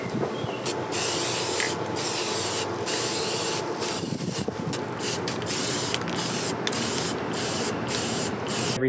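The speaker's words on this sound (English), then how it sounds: "I painted the skid plate." Aerosol spray paint is applied to a Jeep Wrangler skid plate in a series of close, hissing bursts, each broken by brief pauses as the nozzle is released and pressed again.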